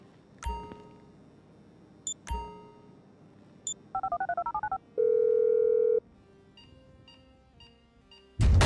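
A phone is dialed in the video game GTA 5: a few scattered clicks, then a quick run of keypad beeps, a long steady tone, faint ringing blips, and a heavy thud at the end, all without speech.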